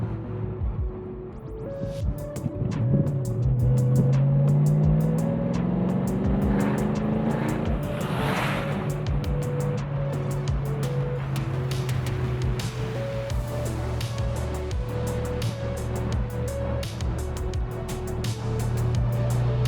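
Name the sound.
Ford Mustang GT convertible engine exhaust cackling through factory mufflers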